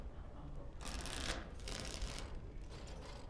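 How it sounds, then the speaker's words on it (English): A deck of cards is shuffled for a game of Wicked Grace in Dragon Age: Origins, giving two or three quick crisp riffling bursts, fairly close and clear. "Before we start, the cards must be shuffled."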